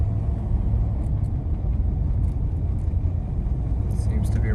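A 1985 Chevrolet Caprice Classic creeps through a residential neighborhood at medium throttle, with a steady low engine rumble and road noise heard from inside the cabin.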